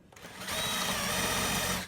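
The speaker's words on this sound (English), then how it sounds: "we can just drill all the way through so that we know exactly where the carriage bolts are going to go" A power drill bores straight through a board to mark holes for carriage bolts. It gives a steady, loud, high whirring whine that ramps up quickly and holds for about a second and a half, with no voices.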